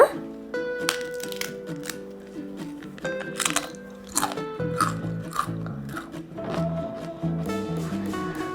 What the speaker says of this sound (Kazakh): біздің чипсымыз дайын, өте қытырлақ, дәмді болып шықты